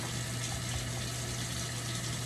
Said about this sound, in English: just pour a little bit of water out